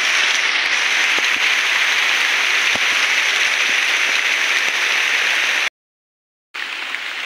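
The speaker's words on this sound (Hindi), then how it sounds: "हे प्रभु हे की वर्षा रे भाई" Heavy rain pours down outdoors near a jungle paddy field, a dense, loud, continuous hiss with scattered sharper drops, broken briefly by a second of silence before resuming.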